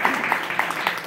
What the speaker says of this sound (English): Well, come on, let's clap.